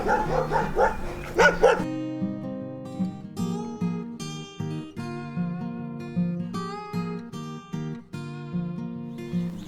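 A dog barks repeatedly in short bursts over sustained tonal music, with a noisier stretch at the start.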